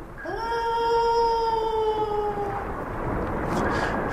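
A long, drawn-out tonal call from an adult male whale with several stacked harmonics that rises at the start, holds steady for about two seconds, then fades into a low rumbling background.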